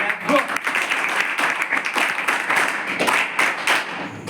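Many people applaud together in a hall, the clapping dense and lively with slight surges and dips, a faint voice briefly audible at the start before the clapping carries on unbroken.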